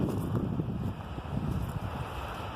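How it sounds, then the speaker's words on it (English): Strong wind at a reservoir buffets the microphone in a constant, loud roaring rush with gusty fluctuations and no voices throughout. "I knew it were going to be windy when I got down here, but I didn't expect it being that windy"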